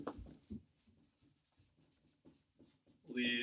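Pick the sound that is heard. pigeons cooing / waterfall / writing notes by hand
writing notes by hand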